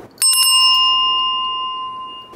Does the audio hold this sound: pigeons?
no